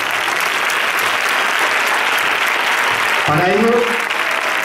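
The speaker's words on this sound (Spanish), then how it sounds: "Un aplauso." Audience at a school tribute event applauding steadily, a dense continuous clapping that fills the room, with a voice speaking briefly over it near the end.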